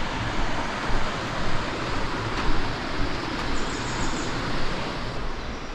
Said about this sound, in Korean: 드디어 계곡 물소리가 올라와요.